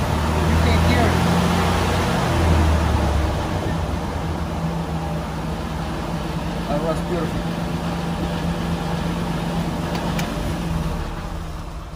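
A 1927 Rolls-Royce Springfield Phantom I with Regent body runs steadily after starting, a low continuous engine drone sitting under the whole stretch while a person speaks briefly over it.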